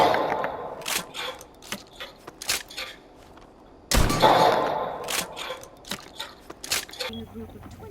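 Shotgun blasts in Rainbow Six Siege crack out in sharp, loud, irregular bursts, with one heavy boom midway, while a person talks over the shooting.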